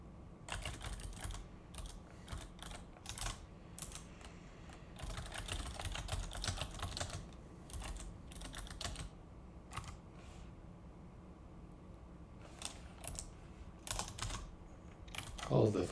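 Bursts of rapid clicking from typing on a computer keyboard, near and fairly quiet, coming in short runs separated by brief pauses.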